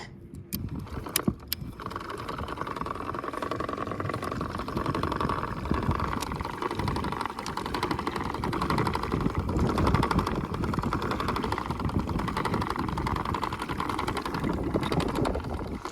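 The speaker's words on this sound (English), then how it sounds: "it's like the first time with the actual trolling motor built" Continuous whirring mechanical drone from a DIY coroplast boat's trolling motor running on water, powered by two-cell LiPo batteries, steady and fairly close throughout with a few faint clicks at the start.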